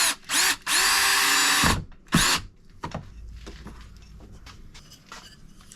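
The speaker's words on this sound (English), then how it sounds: "drill our next hole, and then we'll put the screw in it to secure that part of the cleat to the wall" A power drill bores a pilot hole for a French cleat shelf: several loud, close whirring bursts of the motor, starting and stopping over the first two seconds, then a quieter stretch with light handling noises.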